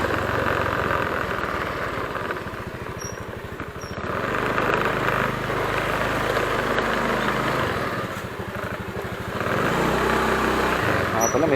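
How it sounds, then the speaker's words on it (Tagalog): A motorcycle with a mechanical fault runs steadily near at hand, its engine idling loudly with a throbbing rumble that swells and eases in a few long surges. "May tama pa itong motor natin."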